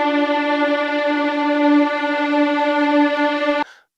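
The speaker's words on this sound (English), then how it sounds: "I'm going to use this violin sound." Simple violin sample loop, a single sustained bowed note held steadily for several seconds, then cut off abruptly, clean and alone with no talking.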